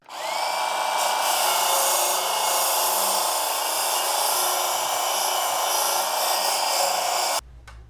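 Belt grinder with a coarse belt sharpening tools, a loud steady high-pitched grinding whine that holds for about seven seconds near the microphone, then cuts off abruptly.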